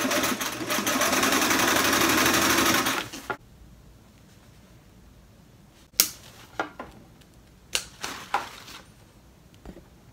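A sewing machine rethreaded with the thread missing its tension discs runs in a loud, steady buzzing burst for about three seconds, then stops, followed by scattered sharp clicks and taps of handling.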